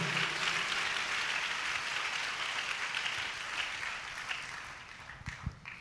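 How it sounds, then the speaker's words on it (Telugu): Church congregation clapping loudly together, a dense sustained wash of applause that gradually fades, ending with a few scattered louder claps. "చప్పట్లు కొట్టండి గట్టిగా, ఒకసారి"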